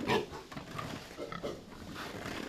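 Pigs oink and grunt repeatedly in a barn on a small Korean pig farm, several animals close by making overlapping, irregular snorts against a busy indoor background.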